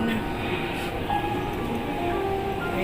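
An MRT train pulls into a station with a steady rumbling roar and some faint metallic squeals, while voices murmur in the background.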